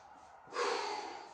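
A single deep breath drawn in through the nose during a Pilates resistance-band workout, a short airy rush starting halfway through and fading slowly, close and alone with no speech.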